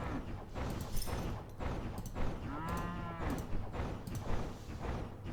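Cows moo repeatedly in the tower defense game Element TD2, several drawn-out lowing calls over a busy, steady background of game effects with rhythmic thuds.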